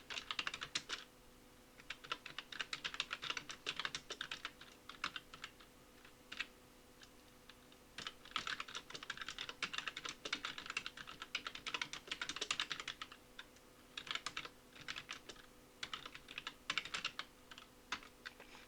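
Steady computer keyboard typing, fairly close and moderately loud, with bursts of rapid keystrokes broken by short pauses, while text is entered into a PowerPoint slide. No one speaks.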